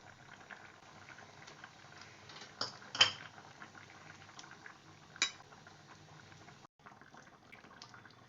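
Potatoes simmer in a pumpkin dhoka dalna curry, a soft steady bubbling with occasional light clinks of a utensil against the pot, faint and close, with no talk.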